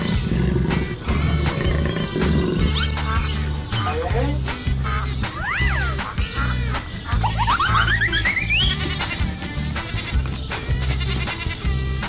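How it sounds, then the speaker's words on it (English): A jaguar roaring amid a busy cartoon-like mix of animal sounds, with bleating and music-like tones layered over loud continuous low rumbling. "Jaguar."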